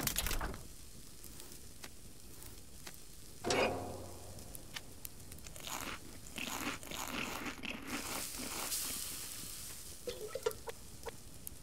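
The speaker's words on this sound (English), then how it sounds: "Let's cook this meat up here." Meat cooking over a campfire in the survival game Subsistence, a soft continuous sizzle with crackling pops and small clicks at moderate level, under in-game ambience.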